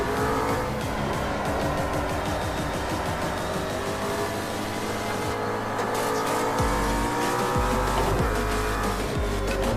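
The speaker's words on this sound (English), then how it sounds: "Back on the throttle, here we go." A race car accelerating in a racing video game, with a steady loud engine roar climbing through the gears under faint tire noise, continuous throughout with no talk.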